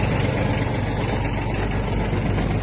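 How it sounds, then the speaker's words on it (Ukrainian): Yanmar F-175 mini tractor engine idling steadily with the power take-off shaft engaged and mower blades turning, a continuous low rumble close by with no pauses. "І одразу включу вал відбору потужності."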